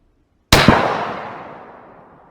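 A single 6.5 Creedmoor rifle shot firing a 130 grain bullet cracks sharply after a moment of silence, followed by a long fading echo rolling across an outdoor range.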